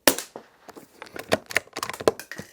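A high-powered airgun fires several sharp, close shots at uneven intervals, each a crisp crack standing alone without talk.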